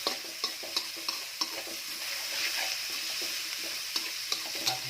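Pork stir-frying in a hot pan, a continuous close sizzle broken by regular scraping, clacking strokes of a utensil stirring the meat.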